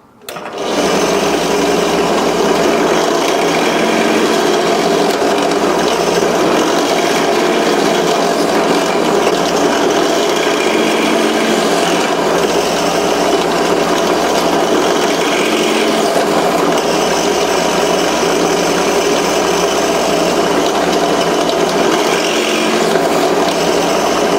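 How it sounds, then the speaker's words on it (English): A loud continuous whirring drill boring eyelet holes in a knife sheath, grinding steadily and without pause for the whole stretch. "Now time to drill for the eyelets."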